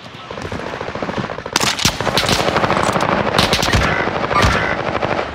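Rapid automatic gunfire from Call of Duty: Modern Warfare, loud and close, with dense rattling bursts and sharp single shots overlapping throughout.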